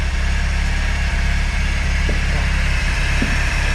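A turbocharged Fiat Spider's engine idles steadily nearby with a low, constant rumble and drone, running on its own without anyone speaking.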